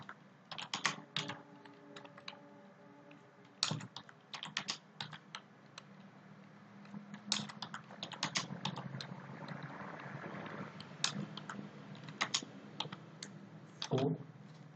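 Fast bursts of clicking keys on a computer keyboard, close and fairly quiet, typed in short irregular runs with brief pauses between them and no talking.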